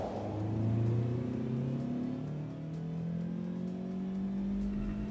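A redesigned 2012 Subaru Impreza with a revamped engine accelerates, its engine note climbing steadily through the gears, with a brief dip between shifts, heard fairly close and alone.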